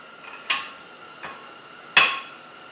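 A ball peen hammer strikes a chisel on hot metal while forging a leaf, giving two sharp metallic clinks about one and a half seconds apart with a fainter tap between them, close and alone.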